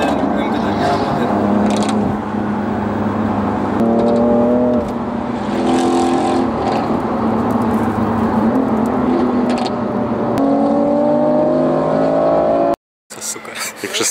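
A BMW M4 Competition revs from inside the car, its loud engine note climbing and dropping through several rises while people talk over it.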